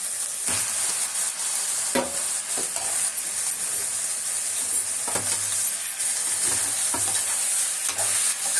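Onions sauté in a pan for chicken curry with a close, continuous sizzle, scraped by a spoon in irregular stirs and the odd light clink, with no talking.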